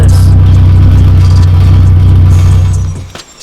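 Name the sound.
project car exhaust noise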